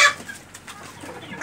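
Chickens and roosters kept in cages on a rooftop terrace farm cluck faintly, with a sharp squawk at the start and then soft, intermittent clucks.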